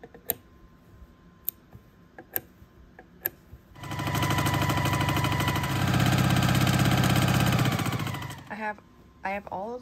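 A sewing machine stitches Dresden plate quilt blades together, running in a loud, steady mechanical chatter for about five seconds after a few isolated clicks, then stopping with faint handling noises and brief talk nearby.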